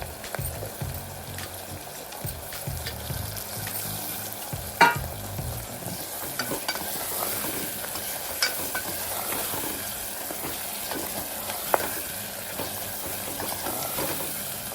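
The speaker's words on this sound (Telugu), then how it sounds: "టమాటా వేస్తున్నాం." Tomatoes sizzling and frying in a pan for a goat head curry while being stirred, a steady close sizzle with scraping stir sounds throughout and one sharper knock midway.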